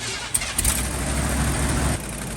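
A 1974 Ford F350 dually ramp truck engine is blipped off high idle, a loud, close rumbling rev that swells after a couple of clicks and then drops back to a steady idle.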